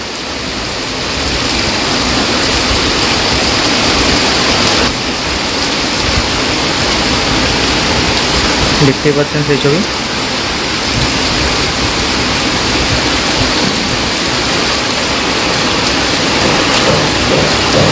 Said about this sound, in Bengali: মুসল ধারায় বৃষ্টি চলছে এই মুহূর্তে